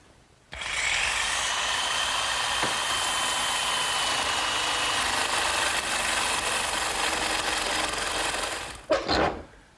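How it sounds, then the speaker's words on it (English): A handheld jigsaw with a metal-cutting blade saws through metal for a child's wagon project, a loud continuous buzzing rasp that starts abruptly, runs for about eight seconds and then stops with a brief clatter. "I'm going to make this cut first, just using my handheld jigsaw and a metal cutting blade"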